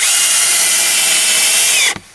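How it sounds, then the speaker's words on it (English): A power drill drives fasteners into strapping boards on a tin roof addition, one loud sustained high whine running nearly two seconds before stopping abruptly, close by with no voices. "I know, more drill sounds"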